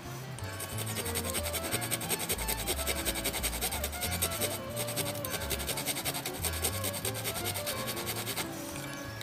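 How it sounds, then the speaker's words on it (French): Rough, rasping strokes of a hand saw cutting through birch wood, steady and continuous, with music playing underneath. "je vais le faire à la scie"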